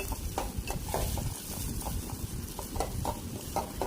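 Chopped onions and slit green chillies frying in oil for a mixed small-fish curry, a dense close sizzle with regular scraping stirs of a spatula against the pan.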